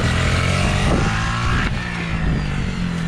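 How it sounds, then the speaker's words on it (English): A pit bike engine revs hard and close during a wheelie, with a rising and falling whine and a sharp shift in pitch midway, loud throughout with no talking. "Pop another wheelie, Matt."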